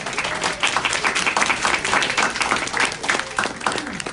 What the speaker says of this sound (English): I think that deserves some applause, right?